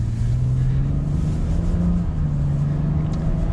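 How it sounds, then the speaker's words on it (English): A 2022 Nissan Frontier Pro-4X or Ford Ranger FX4 pickup engine drones steadily while driving, a deep low rumble with a slowly rising tone, continuous and close with no voices. "Yeah, this has a much more beefy tone to the engine."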